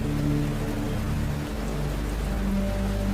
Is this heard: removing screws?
no